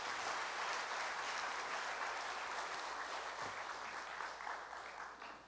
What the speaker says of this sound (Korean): 우리 환영의 박수 드리겠습니다